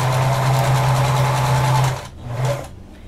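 A sewing machine stitches elastic onto a top with a steady close-up whir for about two seconds, then stops and gives one short final burst.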